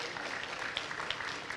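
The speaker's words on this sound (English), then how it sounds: "you can clap for the child." Steady applause from an audience at an elementary school moving-up ceremony, a dense wash of many hands clapping evenly throughout, moderately loud with no clear speech.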